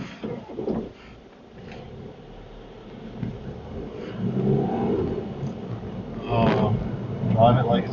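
A Citroen C1 small hatchback accelerates, its engine note building and swelling louder through the second half, with voices talking over it.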